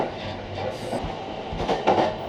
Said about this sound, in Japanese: 両国駅付近から列車は地中深くへ。